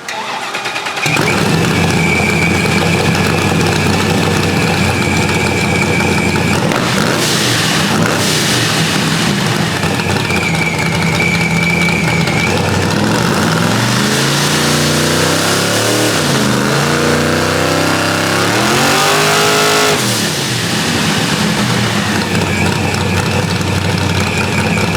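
A loud drag car engine roars and revs continuously, rising and falling in pitch with several sharp sweeps, close up and dominant throughout.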